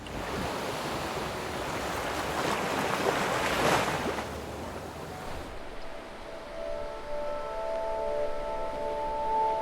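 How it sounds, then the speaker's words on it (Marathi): Ocean waves wash onto a Konkan beach with a broad, steady rush of surf mixed with wind noise, swelling around the middle and then easing to a softer wash, with no talk. "क्षितिजावर पसरलेली लाली आणि लाटांचा मधुर आवाज कानात साठवत हे थंडगार वारे आम्ही पित बसलो"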